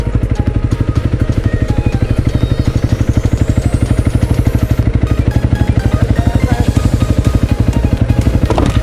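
A touring motorcycle's engine runs near the rider on arrival at a hot-spring inn during a road trip to Tottori, a loud, steady, rapid thumping idle pulse that holds evenly throughout, with no talk over it.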